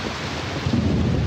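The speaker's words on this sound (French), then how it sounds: "L'orage immobilise au sol un autre avion, celui du commandant Raoul" A thunderstorm holds a plane on the ground: low thunder rumbles beneath steady heavy rain, swelling louder in the second half, with no voices.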